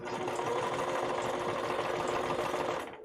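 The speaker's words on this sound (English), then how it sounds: "The sewing machine's doing beautifully." Close, steady whirring of a sewing machine stitching a test dress continuously for a few seconds, then slowing to a stop at the end.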